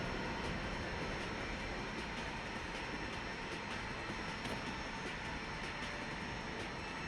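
Aircraft engine in a flight combat video game, a steady broadband roar droning evenly at moderate level with no speech over it.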